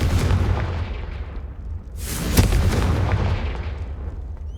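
Fiery Confringo spell blast in Hogwarts Legacy: a loud, close booming burst with a long rumbling tail, a second sharp crackling blast in the middle, then a rolling fade.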